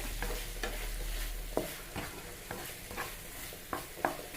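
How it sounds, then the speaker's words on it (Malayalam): Curry leaves fry in a pan with a steady low sizzle, cut by sharp scraping strokes of a spatula stirring at an uneven rhythm, close and fairly quiet, no voices. "എന്നിട്ട് നമുക്കിതാ കറിവേപ്പില ഇട്ട് ഇട്ടോട്ട് അതിന് കൂട്ടി ഒന്നും കൂടെ ഒന്ന് വേവട്ടെ"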